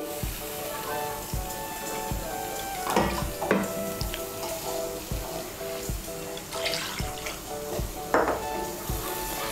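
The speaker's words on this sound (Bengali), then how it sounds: "আমি এর মধ্যে 2 কাপ জল দিচ্ছি।" Two cups of water poured into a pan of fried spices for pomfret fish curry, a splashing pour and hissing sizzle with a few clinks of a pan and utensil, moderately close and fairly quiet.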